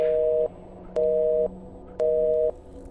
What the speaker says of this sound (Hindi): उस तरफ से फोन कट गया था